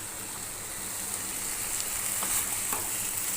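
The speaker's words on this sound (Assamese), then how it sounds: "এইখিনি ভালকৈ ভাজিব লাগিব যাতে মছলাখিনি মাংসখিনিত সোমাই যায়" Steady sizzling of pork and spices frying in a hot pan, a continuous crackling hiss with a few faint stirring scrapes.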